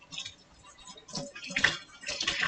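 Water rinsing out a kitchen sink, with splashing and dripping that swell in uneven bursts, close by and with no talk over it.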